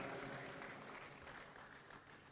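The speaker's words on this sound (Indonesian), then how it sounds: "tepuk tangan." Steady applause from a large audience at an Indonesian political party gathering announcing its new leadership, a dense unbroken patter of many hands heard from a distance, slowly easing.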